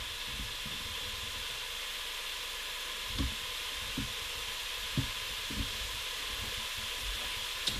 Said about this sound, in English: So we're just going to let them soften, or what we would call sauté, just for a moment,